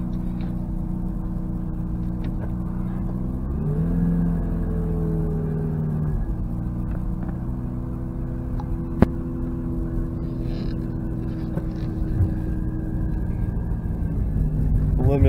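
A 1988 Mazda RX7 cruises with its engine running steadily, a low droning rumble that swells briefly as it revs, heard from inside the car over constant road noise.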